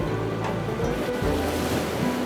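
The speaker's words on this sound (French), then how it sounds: "on voit la mer brisée là-bas, l'eau qui coule du récif" Pacific Ocean waves breaking over a coral reef in the Tuamotu archipelago, heard from a sailing boat: a continuous rushing surf with wind buffeting the microphone, steady and fairly loud.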